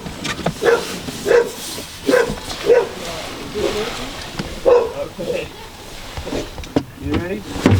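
A dog barks in several short, loud yips and bow-wows spaced through the scene, close by, with people talking around them.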